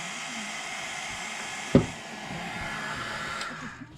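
A hair dryer blows a steady, moderate airflow hiss while drying a craft piece, with one sharp knock partway through and the whir tapering near the end.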